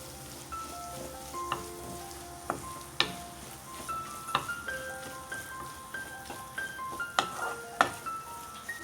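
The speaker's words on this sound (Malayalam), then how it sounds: "ഇനി ഇതിൻ്റെ പച്ചമണം മാറുന്നത് വരെ ഒന്ന് വഴറ്റി കൊടുക്കാം" Mutton roast masala sautéing in a pan with turmeric, a steady low sizzle broken by sharp clicks and scrapes of a spoon stirring against the pan, close and moderately quiet with no talking.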